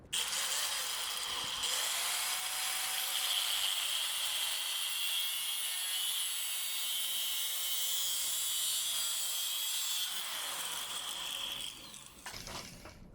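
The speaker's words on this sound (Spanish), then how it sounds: "vamos a hacer la prueba del corte con este tornillo de banco para ver qué tanta sujeción tiene" A round mechanical steel tube clamped in a Truper 5-inch European-style bench vise is sawn through, giving a steady, bright, continuous cutting rasp for about twelve seconds at close range before it tapers off.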